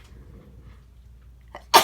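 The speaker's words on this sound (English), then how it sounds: "I gotta sneeze." A single sharp human sneeze bursts out at the end after a quiet, faintly breathy pause, close and loud.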